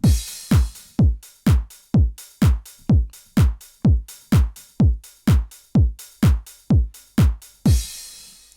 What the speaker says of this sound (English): So it's just like kick with a clap, and the clap is every 2.